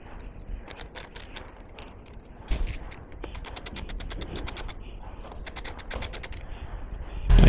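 A hand ratchet clicks in quick bursts of rapid ticks while backing out the tail light bolts on a Kawasaki Ninja 650, close up, with short pauses between runs and no one talking.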